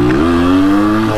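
Yamaha RX 100 two-stroke motorcycle revving in first gear, a loud, close engine note that climbs quickly then holds a high buzzing pitch, with no talk.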